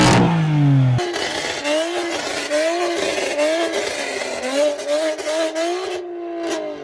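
A BMW M4 engine on its stock exhaust revs loudly and close by, climbing and dropping in pitch several times in quick succession before settling back to a rough idle.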